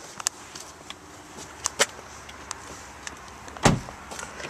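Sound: car door closing

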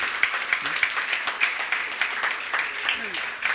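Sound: audience applause

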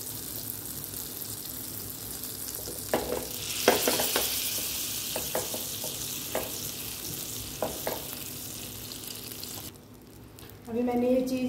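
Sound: veg burger patties sizzling in melted butter in a pan

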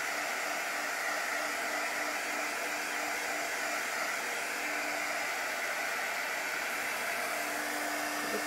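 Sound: hair dryer drying paint transfer

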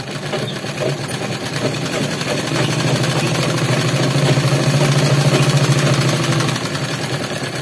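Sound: sewing machine stitching fabric for a gharara

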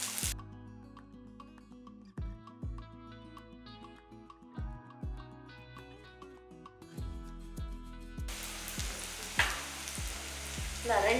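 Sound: veg liver masala sautéing in a pan

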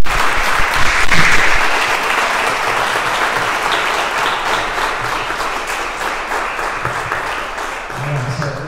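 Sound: audience round of applause at a talk

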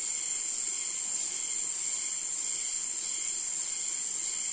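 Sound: crickets chirping in forest

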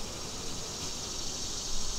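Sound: honeybees buzzing in a hive

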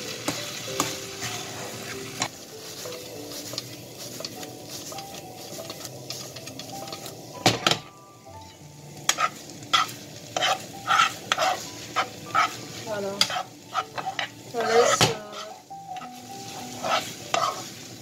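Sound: stirring rice vermicelli in a pan over the heat

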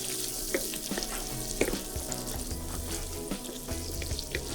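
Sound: ginger and garlic frying in pan

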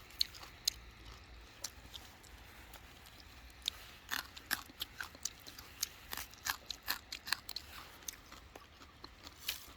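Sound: chewing and eating a peeled plant stem

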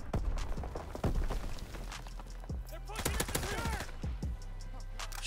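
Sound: gunfire in video game Call of Duty: WW2

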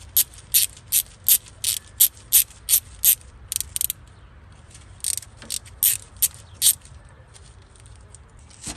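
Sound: ratchet wrench removing a bolt on Ford 2.3 engine

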